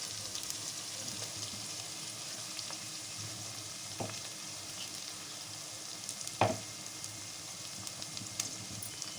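Ginger-garlic paste fries in oil over softened onions for a curry, a soft, steady sizzle with two sharp utensil knocks against the pan.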